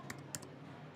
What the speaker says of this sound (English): You just need to start typing